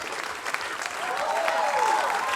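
Audience applause at a school ensemble concert, a steady dense clapping that swells slightly and holds loud for the whole stretch, with a faint tonal sound running underneath.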